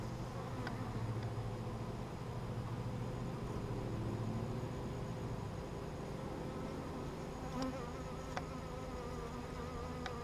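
Honeybees buzz at a hive feeder during a first-year beekeeping inspection, a dense, steady drone of many wings held close and continuous throughout, with no voices.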